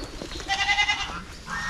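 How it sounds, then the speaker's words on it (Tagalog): Goats on a farm in the Philippines bleat in a short, wavering burst near the middle, loud and close against a quiet outdoor background. "Yung kambing natin dito,"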